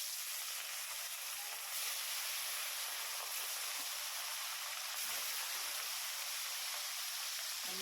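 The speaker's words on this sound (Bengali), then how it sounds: "সেই রাত্রিরে মাছ ভাজার তেলটার মধ্যেই আর একটু তেল দিয়ে মাছগুলো সব ভেজে নেবো।" Fish frying in hot oil in a home kitchen, with a steady, loud broadband sizzle that holds without a break, swelling slightly at a couple of moments and with no voices over it.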